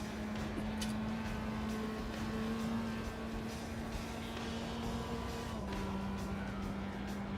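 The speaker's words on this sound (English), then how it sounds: "Sounds pretty sweet for a little Formula car." A Formula race car engine in a racing simulator drones steadily at a high pitch, holding one tone and then dropping slightly as it shifts, with a constant mechanical hum.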